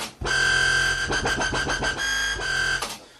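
A dense, harsh burst of layered synth noise, buzzing and wide, with a fast stuttering rhythm in the middle before cutting off abruptly.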